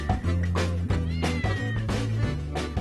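A house cat meows repeatedly at close range, several drawn-out, tonal calls in quick succession with short pauses between them, clear and alone.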